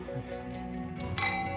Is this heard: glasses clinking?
yes